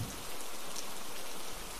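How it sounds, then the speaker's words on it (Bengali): Steady cartoon rain pouring outside a haunted house, a continuous broadband hiss of falling drops that holds even and fairly loud for the whole stretch, with no voices over it. "বাইরে তো বৃষ্টি পড়ছে"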